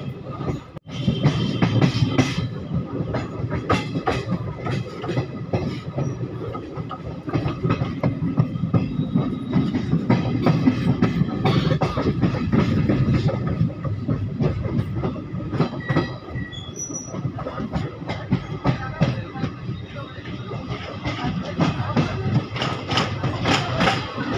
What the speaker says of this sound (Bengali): আমাদের ট্রেন এখন পার করছে চন্দ্রকোনা রোড স্টেশন।